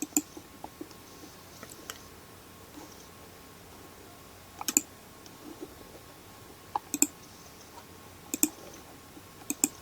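Sparse, light mouse clicks on a computer running AutoCAD, arriving singly and in small clusters against a quiet room background with no talking.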